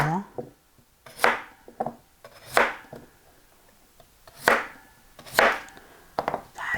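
A knife cubes firm radish for kkakdugi on a cutting board in separate crisp strokes, about seven or eight cuts at an uneven, unhurried pace, close up.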